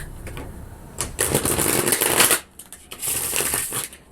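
Tarot cards shuffled by hand in a few bursts of crisp riffling and rustling, close and fairly loud, with a short pause mid-way and no talking.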